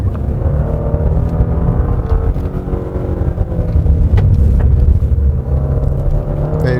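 A Genesis G90 AWD in comfort mode pulls hard along a winding mountain road near Chugok Mineral Spring. Its deep engine rumble and road noise swell steadily as the car gains speed, with no talking.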